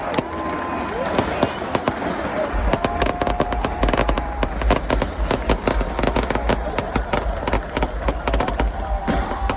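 Fireworks crack and pop in rapid bursts over a large crowd at the end of a band's concert set at Download Festival 2025, loud and dense, with crowd noise and voices underneath.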